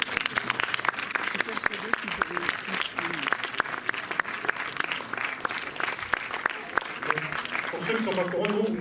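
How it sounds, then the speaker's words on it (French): Audience applause in the cinema hall at the Méliès during the Renc'Art 2020 jury prize ceremony, dense clapping with sharp individual claps, while voices speak over it near the end. "Sous vos applaudissements, Maureen."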